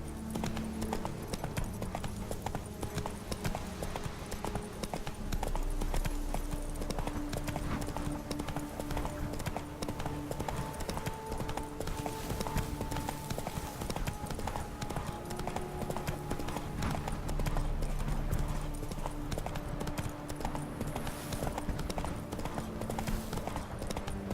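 Horse hooves galloping in The Witcher 3 video game, a continuous rapid clip-clop rhythm that holds steady and fairly close for over twenty seconds, layered with game ambience and music.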